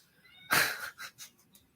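A house cat lets out one loud, drawn-out meow close to the microphone, followed by a few shorter, fainter mews.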